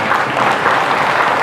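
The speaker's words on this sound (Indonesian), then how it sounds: "tepuk tangan untuk kita semuanya" Schoolchildren at an Islamic elementary school clap together in a dense, steady burst of applause that fills the room, loud and continuous with no talk over it.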